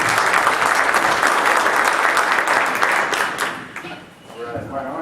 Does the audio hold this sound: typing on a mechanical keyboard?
no